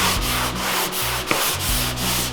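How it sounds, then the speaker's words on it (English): Rhythmic back-and-forth sanding of wood with a block, steady scratchy rubbing strokes close up, with no talking. "So the next step is to sand it. So what we're going to use is a sanding block."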